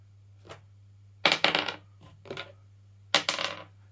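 Dice are thrown in several separate rolls, each a quick burst of hard clattering and rattling taps as they tumble and settle, heard close with quiet pauses between throws over a steady low hum.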